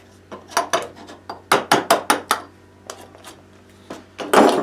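A rasp shaping a wooden shotgun stock, giving bursts of short rough scraping strokes in quick rhythmic groups, close and fairly loud, with brief pauses between passes.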